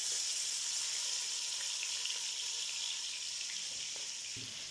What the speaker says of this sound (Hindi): ये देखिए बिल्कुल यहाँ पे मैं अदरक लहसुन का पेस्ट डाल दूँगी।